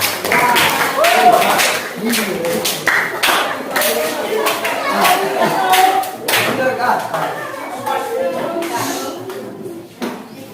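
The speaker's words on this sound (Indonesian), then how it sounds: "tepuk tangan buat kelompok" Applause from a classroom for a student group at the end of a lesson, scattered hand claps with sharp thuds and pings, mixed with chatter and voices throughout.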